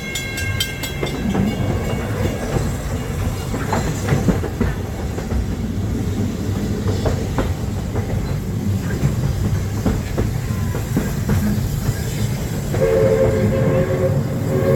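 A Magic Kingdom railroad train rolls along with a steady rumble and rattle of its cars, with occasional clanks and whistle-like tones over the running noise.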